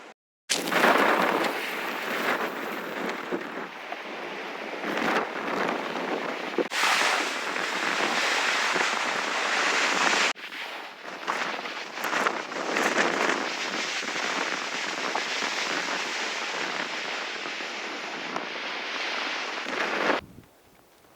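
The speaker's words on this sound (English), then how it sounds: "The wind has been cutting head on to the truck" Strong wind buffets a parked Power Wagon truck and the microphone on an exposed high camp, a loud continuous roaring rush with brief gusty breaks lasting about twenty seconds.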